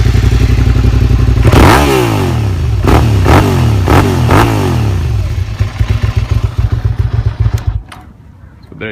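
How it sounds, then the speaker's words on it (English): Suzuki SV650 motorcycle accelerating hard through several gears, engine note rising and dropping with each shift, loud and close, then settling to a lower rumble as it eases off. "when I actually ride the bike and when you hear it accelerate"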